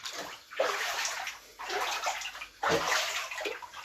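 Floodwater sloshes inside a house flooded after heavy rains in the Chervonohrad district, surging in three heavy rushes close by with quieter swirling between them.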